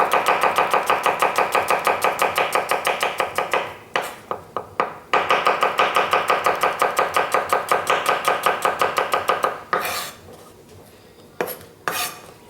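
A knife slices red chilli on a board with a fast, steady run of close, sharp chops, a brief pause of scattered taps, then another long rapid burst ending in a few louder knocks.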